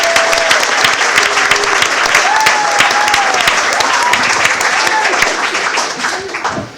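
Loud, sustained applause from an audience at a board of education meeting, dense even clapping that tapers slightly near the end.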